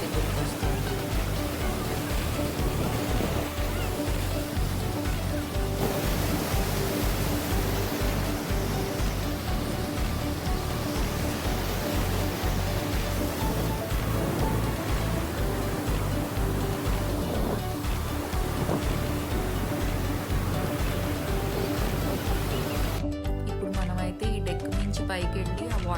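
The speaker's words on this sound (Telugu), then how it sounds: "బ్యూటిఫుల్గా ఉండే ఈ వాటర్ ఫాల్స్ని మన కళ్ళతో మనం చూడాలే తప్ప మాటల్లో వర్ణించడం చాలా కష్టం అండి" Niagara Falls gives a broad, unbroken roar of heavy falling water throughout, dense and steady, with voices and other sounds mixed over it.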